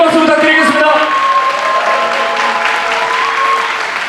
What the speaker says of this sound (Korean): 멋진 경기를 보여준 광남 선수께 큰 박수 부탁드리겠습니다